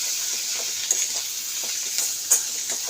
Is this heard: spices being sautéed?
yes